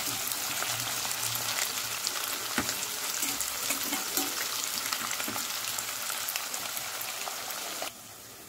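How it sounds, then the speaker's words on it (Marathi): Sliced onions fry vigorously in hot oil for potato pulao, a loud, continuous crackling sizzle with scattered pops and stirring, then it drops abruptly to a quieter hiss near the end. "मी 2-3 मीडियम साईजचे कांदे असे उभे चिरून घेतलेले, तर याला आपण मस्त फ्राय करून घेऊ कांद्याला।"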